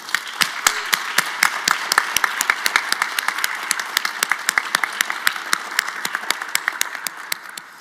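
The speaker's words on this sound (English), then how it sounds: "So let's give everyone a round of applause." A graduation ceremony audience applauds steadily, with dense, even clapping that holds throughout and no talking over it.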